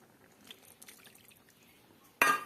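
Water from a rinsed bowl is poured into a cooking pot of ridge gourd, lentil dumplings and poppy seed. After a quiet stretch it lands as a short, loud splash near the end.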